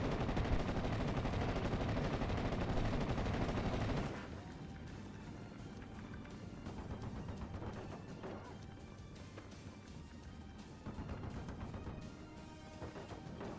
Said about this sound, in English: I like the machine gun audio in this game as well